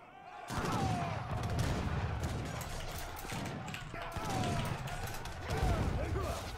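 Great bombard cannons firing in the Age of Empires III video game, repeated booming blasts and rattling battle clatter in a dense, ongoing barrage under a commentator's voice.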